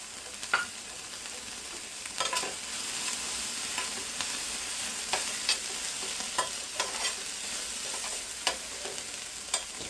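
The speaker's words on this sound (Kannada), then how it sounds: "ಇದು ನಾನು ತುಂಬ ಫ್ರೈ ಮಾಡಲ್ಲ, ನಿಮ್ಗೆ ಬೇಕಿದ್ರೆ ಜಾಸ್ತಿ ಫ್ರೈ ಮಾಡ್ಕೊಳ್ಬಹುದು" Capsicum palya fries in a pan, a steady bright sizzle broken by sharp scrapes and taps of a spoon stirring at a regular pace, close and without talk.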